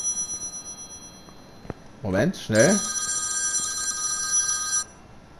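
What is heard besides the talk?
telephone ringing in Car Mechanic Simulator 2021 video game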